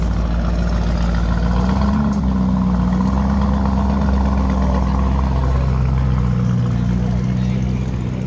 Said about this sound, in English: Let's see if you can hear the exhaust sound.